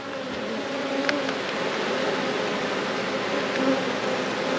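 Honey bees from a caught swarm drone steadily nearby, a continuous buzzing hum with faint background noise and no voices.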